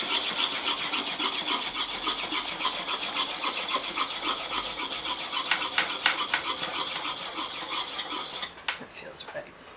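A wood carving tool honed on a slipstone gives a continuous, close run of quick rhythmic rasping strokes, which turn into a few scattered scrapes at the end.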